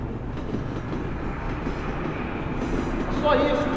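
Train passing at a terminal station, a steady low rumble of rolling wagons that grows slightly louder toward the end, with a brief high squeal near the close and speech in the background.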